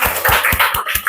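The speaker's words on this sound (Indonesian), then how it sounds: "Tepuk tangan untuk kita semua." Classroom of students applauding together, a loose burst of claps with uneven rhythm, fairly loud and close, no talking over it.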